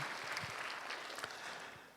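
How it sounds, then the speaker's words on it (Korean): Church congregation in a Korean service applauding to bless the choir: a short, dense wash of steady clapping from many hands, moderately loud throughout. "우리 박수로 축복하십시다."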